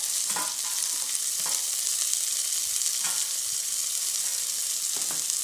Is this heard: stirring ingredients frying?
yes